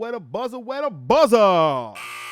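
A short electronic buzzer tone sounds right after brief talk, a sustained harsh buzz lasting under a second and fairly loud against the voice.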